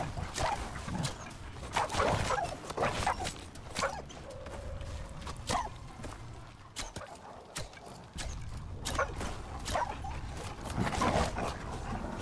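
Puppies in the survival video game Icarus whimper and yip over busy game ambience with in-game footsteps and creature noise, the little dog sounds recurring near and fairly loud throughout.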